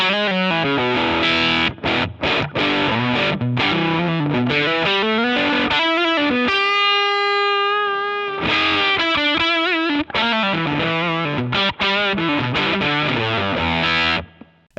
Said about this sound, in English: As you can hear, we're starting to get some of those more maestro type fuzz tones.